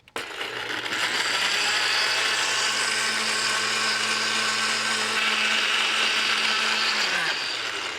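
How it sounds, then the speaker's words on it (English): A blender purees chili seasoning made of fresh lime juice, water, salt and pepper, running as a loud, steady motor whine for several seconds before spinning down at the end. "Puree these ingredients in a blender."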